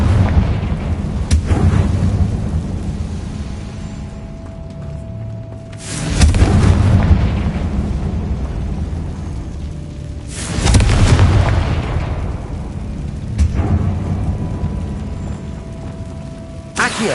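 Confringo spell blasts go off in the Hogwarts Legacy video game: several heavy, booming explosions a few seconds apart, each with a long rumbling decay over steady game ambience.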